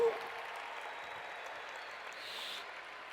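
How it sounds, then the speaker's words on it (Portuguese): Audience applause at a talk or lecture event, a steady broadband patter of clapping that carries on for several seconds at moderate distance. "Uma salva de palmas para a matemática."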